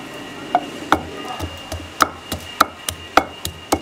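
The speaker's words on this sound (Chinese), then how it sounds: "把这蒜粒先剁一下" Sharp, irregular knocks of a cleaver chopping garlic cloves on a wooden board, about a dozen close, loud strikes at an uneven pace with no talking.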